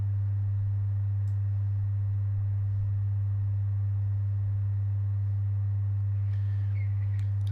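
A steady sine test tone from an audio plugin with a faint fourth harmonic, a constant low pure hum holding unchanged throughout, with a few faint ticks near the end.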